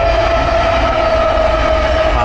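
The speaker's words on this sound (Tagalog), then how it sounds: "Ayan, tren." A long freight train rolls past, and its steady, loud rumble carries a sustained tonal whine that holds throughout, with no break and no voices.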